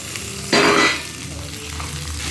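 Onions and tomatoes sizzle loudly in a hot pan for vegetable noodles, with a sudden burst of frying as they hit the oil that then eases into a steady, close hiss.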